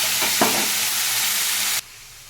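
Onion paste and black cumin seeds hitting hot oil, a loud close crackling sizzle with a quick stir before it cuts off abruptly into near silence.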